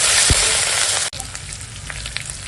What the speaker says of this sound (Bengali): তো পেঁয়াজটা ভেজে নিই, দিয়ে দিলাম আদা রসুন বাটা, দেবো টমেটো কুচো,